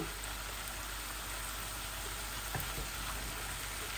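Onion, chilli, ginger and garlic frying in a pan for a potato, tomato and cauliflower curry, giving a steady, even sizzle throughout with a faint stir near the middle and no talking.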